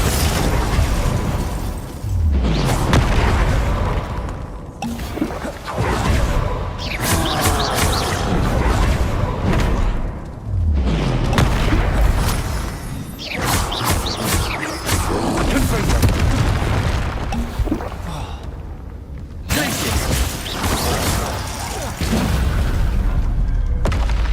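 Repeated Confringo fire-spell explosions in the Hogwarts Legacy video game, heavy booms and bursts going off one after another over a loud, busy battle mix, with a voice calling out at times.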